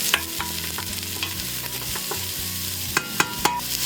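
Onion and aromatics sizzle steadily in sesame oil in a hot pan, with repeated scraping and stirring strokes. Several sharper clacks of the utensil on the pan come near the end.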